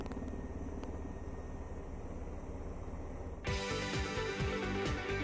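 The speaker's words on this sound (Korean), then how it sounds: "수리온은 공격과 방어의 기능을 모두 갖춘 헬기다." A Surion military helicopter flying nearby, a steady rumbling rotor and engine drone that grows fuller and louder partway through, with no voices.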